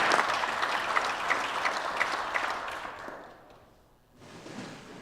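Guests in a provincial legislature gallery clap steadily, a dense round of applause that tapers off and briefly resumes near the end.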